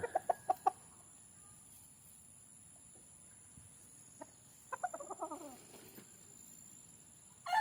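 A Boston Roundhead gamefowl rooster gives a short burst of clucks at the start and a longer chattering run later, close but fairly quiet. A steady high insect drone sits underneath throughout, and nobody speaks.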